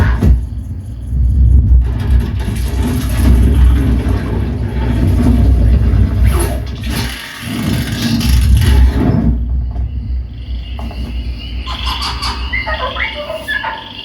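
Loud cinematic surround trailer audio in Dolby 5.1 plays through a home speaker system, with deep sustained rumbling bass swells, a brief drop near the middle, then scattered high chirping and sweeping effects toward the end.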